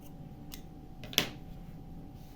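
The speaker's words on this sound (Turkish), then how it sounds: "Dışarıda kalan ipi kesiyorum." A single quick snip of scissors cutting through crochet yarn, one short sharp click near the middle against a quiet background hum.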